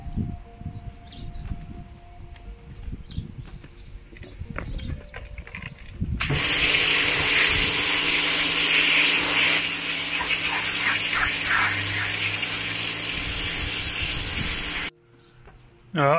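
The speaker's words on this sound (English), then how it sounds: "We'll go give it a water blast, get all the rubbish off it, see how it comes up." A water blaster sprays down a piece of druzy quartz rock crusted with oyster shell, a loud steady hissing gush that starts abruptly partway through, runs for several seconds and cuts off sharply, after quieter talk and handling.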